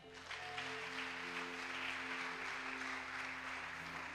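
Church congregation applauding steadily throughout, a dense wash of clapping over sustained organ or keyboard tones during a worship service.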